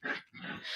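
A dog at play makes rough grunting and growling sounds, two bursts close together with a short gap between, fairly close and loud with no talk over them.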